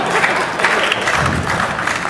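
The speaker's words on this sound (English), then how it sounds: "Oh, the slow clap, that is dramatic." An audience at a stand-up comedy show claps, a full dense wash of many hands with a few loud individual claps standing out, sustained and close throughout with no voices on top.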